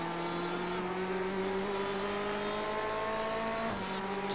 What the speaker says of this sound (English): You can hear the different engine tones as well.